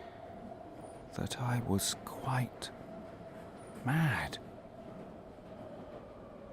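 A steady train-ride rumble with a faint tonal hum runs beneath someone narrating an audio drama, whose voice rises over it in short bursts.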